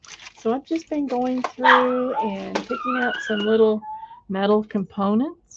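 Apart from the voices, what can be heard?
dogs barking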